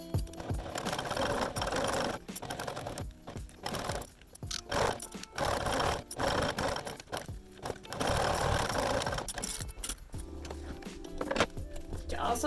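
A sewing machine runs steadily, topstitching a clutch bag, its rapid rhythmic needle chatter close and continuous in long runs broken by brief stops, with some handling noise.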